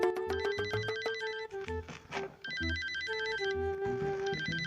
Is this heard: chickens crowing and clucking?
no